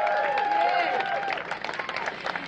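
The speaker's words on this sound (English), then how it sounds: "Give them a big round of applause." Crowd applauding the Ali family at a mural unveiling at Ben's Chili Bowl in Washington, DC, a steady wash of clapping that thins toward the end, with voices mixed in.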